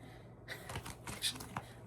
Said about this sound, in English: Shuffle these again.